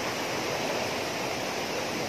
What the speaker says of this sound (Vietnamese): con suối rất là nhiều đá